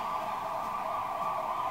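An ambulance siren outside, a sustained steady wail heard from some distance and held throughout, fairly faint, alone with no talk over it.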